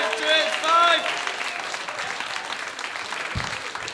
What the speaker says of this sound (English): Big round of applause, please, for Shez Weston.